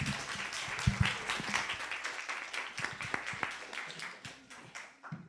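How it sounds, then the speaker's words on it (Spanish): An audience applauds a speaker at a lecture on energy storage regulation, a moderately loud burst of clapping with distinct individual claps that gradually thins and fades. "Démosle un gran aplauso al doctor González Márquez."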